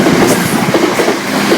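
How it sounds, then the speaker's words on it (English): Two coupled Class 170 units, four carriages in all, rush past at speed on a CrossCountry service: a loud, close rattle of wheels with rhythmic clickety-clack beats throughout. "Cross country, it's 2 class 170s, 4 carriages."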